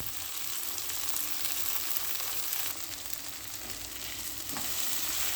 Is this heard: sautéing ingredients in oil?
yes